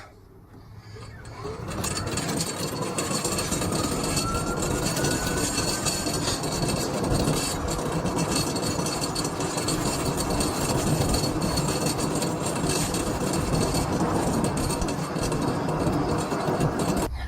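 An EZ-GO TXT golf cart converted to 48V lithium, rear tires inflated, driving at about 19 mph: a loud, steady rolling rumble and electric whine that builds in the first two seconds and then holds constant with no talking.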